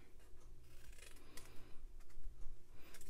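Scissors snip through pieces of grid paper while a takeout treat box is made, producing a quiet run of soft cuts and paper rustles close by, with no talking.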